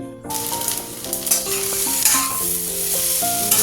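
Food fries in a pan with a steady sizzle and occasional stirring, while clear melodic music plays over it.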